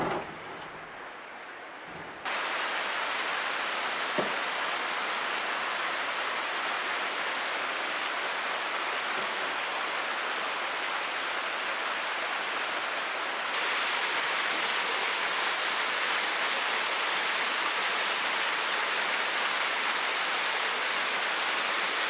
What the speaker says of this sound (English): We're just coming up on this rather beautiful looking little waterfall ahead.